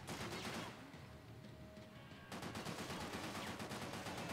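Rapid gunfire from the video game Max Payne 3, loud continuous bursts of automatic shots that pause briefly and then resume in a dense, rattling stream.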